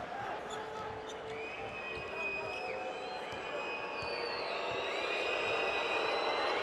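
A booing crowd at a FIBA Basketball World Cup qualifier between Turkey and Montenegro: a sustained arena crowd drone with a basketball bouncing on the court, steady and moderately loud throughout.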